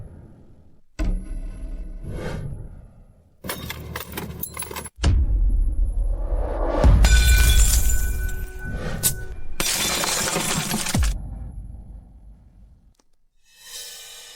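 Glass of an Audi car being smashed in repeated bursts, with loud shattering crashes and clinking shards between harsh impacts, close by and with no talking.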